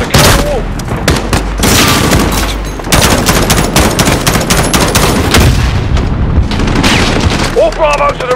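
Dense gunfire in the Call of Duty Modern Warfare campaign, Embassy mission: rapid automatic bursts and heavy booms roll on almost nonstop, loud and close, with battle chatter mixed underneath.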